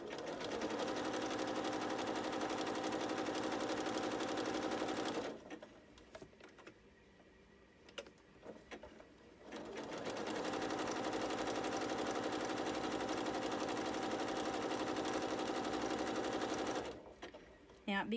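Sewing machine quilting stitches through a quilt, a steady, fast, loud mechanical whir that runs for several seconds, pauses briefly while the quilter talks, then resumes just as steadily.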